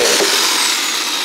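A reciprocating saw cuts through drain pipe on Adams Street during a pipe realignment, a steady, loud, bright buzzing rasp that holds continuously at close range with no talk.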